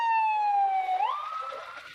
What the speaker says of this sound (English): stop for the ambulance. That's what all the blinky lights and the loud shrieky noises mean.